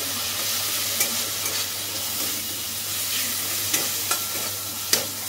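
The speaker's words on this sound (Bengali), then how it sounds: "বাকি সমস্ত মশলাগুলো আমি ভালো করে একটু নেড়ে" Spices stirred and fried in a pan for dhokar dalna, a steady low sizzle with a few sharp scraping taps of a spatula, close by and without talk.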